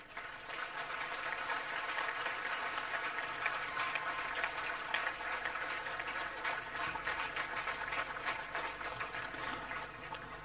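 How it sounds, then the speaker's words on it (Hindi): Sustained applause from an audience at the inauguration ceremony of the Charanka solar plant, a dense and even patter of many hands clapping for about ten seconds with no voices over it. "आइए तालियों की गूंज से बधाएं"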